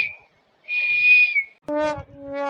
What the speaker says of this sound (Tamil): என்ன விசில் அடிச்சு கூப்பிடுறேன்?